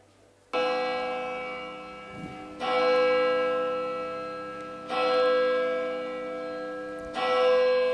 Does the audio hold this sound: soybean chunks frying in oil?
no